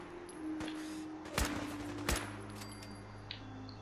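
Two sharp gunshots from a firearm in Fallout 4's Far Harbor add-on, spaced well apart over a steady game ambience, loud and close.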